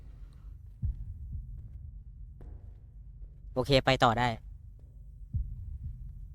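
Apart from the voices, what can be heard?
heartbeat sound in the horror video game Deppart Prototype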